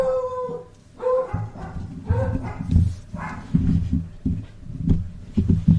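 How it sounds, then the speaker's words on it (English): Several dogs bark and howl in the background, with repeated overlapping barks and whines throughout. "Please ignore the dogs in the background."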